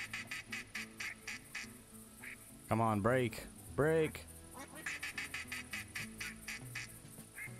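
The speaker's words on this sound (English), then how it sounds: "Thought I heard another duck quacking." Ducks quacking in the hunting game theHunter Classic, with two loud bursts of rapid quacks close by in the middle, under someone speaking quietly and a steady ambient game backdrop.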